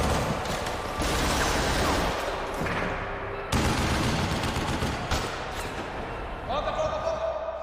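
Bursts of gunfire crackle over a dense, loud action film soundtrack as a SWAT team returns fire, with voices and music mixed in throughout.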